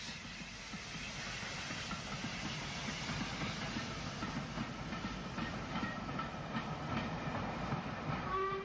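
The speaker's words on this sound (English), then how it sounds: "A Ventnor train is climbing away from RYDE St John's" An Isle of Wight railway train of the 1950s or 60s climbs away from Ryde St John's on the way to Ventnor. A steady, close rumble of wheels and carriages runs throughout with faint rhythmic clatter, and no voices are heard.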